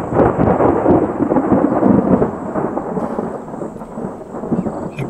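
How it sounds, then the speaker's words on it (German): Heavy thunder rumbles directly overhead during a thunderstorm in Etosha National Park, a loud sustained rolling roar under steady rain, heard from inside a car. "Das ist so heftig, gerade an Blitzen und Donnern. Das ist direkt über diesem Ort hier."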